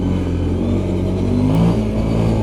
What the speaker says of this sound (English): So we're getting up there in the revs right there.